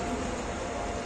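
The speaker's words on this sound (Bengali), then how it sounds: "একটা ট্রেন যাচ্ছে আর একটা ট্রেন আসছে" A train runs along an Indian railway line, a loud, steady rumble and rattle of wagons passing close by, with no voices over it.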